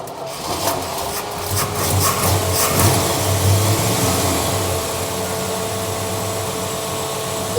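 A 1957 Chevy engine with dual carburetors is revved with quick throttle blips and then holds a loud, steady rumbling run close by, with no talk.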